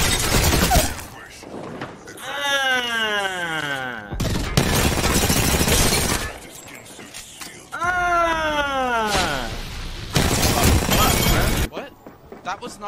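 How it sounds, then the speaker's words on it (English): Havoc energy rifle firing in Apex Legends, sustained loud bursts of automatic fire alternating with stretches where people talk. "From a turbocharged Havoc to a non-turbocharged Havoc, this weapon does so much damage once the bullets start shooting."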